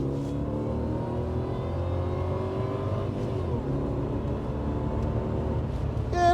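A Jaguar XJR accelerating under load, its engine tone climbing steadily, easing briefly at a gear change, then rising again, heard from close by as a continuous loud drone with no talking.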